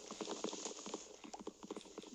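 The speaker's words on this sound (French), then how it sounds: "Il y a des chevaux." Horses walking in the video game Minecraft, a steady patter of soft hoof clip-clops repeating close by with no talk over them.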